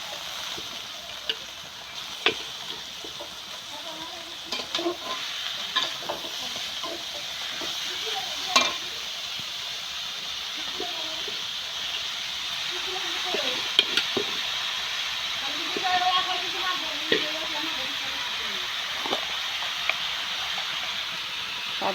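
Water lily stems (shapla) fry in hot oil, giving a steady close sizzle with occasional clicks and scrapes from stirring, and a faint voice now and then.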